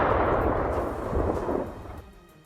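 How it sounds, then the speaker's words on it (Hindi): A deep, booming explosion right beside a yellow bus rolls out and decays over a couple of seconds, its rumble fading into quiet. "लेकिन इसी दौरान पीले रंग की एक बस के बिल्कुल करीब जोरदार विस्फोट हो गया।"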